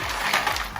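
Ice cubes drop into a blender with watermelon pieces and protein powder for a chocolate pineapple shake, giving a near, busy clatter and crunch of hard cubes across the short moment.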